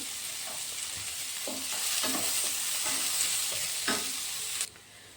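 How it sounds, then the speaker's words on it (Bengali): Green chillies fry in a pan for a homemade pasta sauce. A loud, steady sizzle runs throughout, with a few soft stirring scrapes, then cuts off abruptly near the end. "তারপরে দিয়ে দিচ্ছি কাঁচা লঙ্কা। এগুলোকে একটু ফ্রাই করে নেব।"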